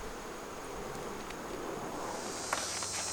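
Honey bees at a thriving beehive give off a dense, steady buzz that fills the whole stretch at an even level, close by and with no voices.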